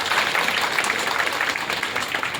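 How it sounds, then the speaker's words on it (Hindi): An audience claps throughout a hall at a Bihar Diwas celebration in Panchkula during a lamp-lighting ceremony, a dense, sustained ripple of applause at moderate loudness with a faint voice underneath. "जोरदार तालियां, पूरे हॉल से तालियों की आवाज आनी चाहिए।"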